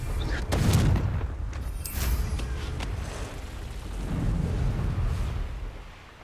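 Booming explosions from the Confringo blasting spell in Hogwarts Legacy roll out as deep, rumbling bursts, one early and another swelling later, over crackling debris and steady game background noise.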